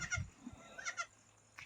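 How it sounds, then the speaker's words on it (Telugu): A mother goat with three newborn kids, short bleats heard close by in a couple of quick bursts over a quiet farmyard background. "3 మేకపిల్లలు కనిపిస్తున్నాయి."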